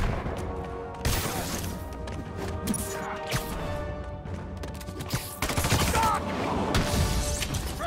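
Rapid gunfire and crashing impacts from a Spider-Man video game fight against Fisk's armed goons, dense bursts of shots and smashes running continuously with a voice talking over parts of it.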